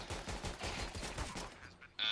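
Rapid, fairly faint pistol shots from a Glock in Counter-Strike: Global Offensive during a competitive esports match, a quick string of pops that stops before a sharp final noise.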